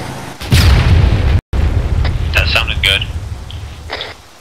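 A rocket blast in the military video game ARMA 3 lands with a heavy boom early on, followed by rumbling debris and scattered crackles and pops, with a voice speaking over the battlefield noise.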